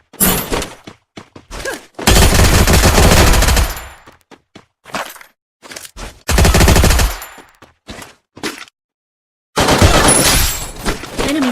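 Bursts of automatic gunfire in the Free Fire battle royale game during an esports world cup match, loud rapid fusillades alternating with short single shots and brief silences.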